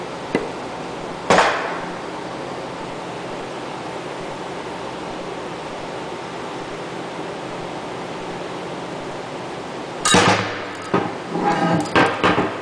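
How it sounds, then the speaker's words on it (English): A hammer strikes a wooden block to knock an impeller off a pump shaft during mechanical seal replacement: one sharp knock early, then a quick irregular cluster of taps near the end over steady background hiss. "you would use a wooden block and a hammer and tap it off"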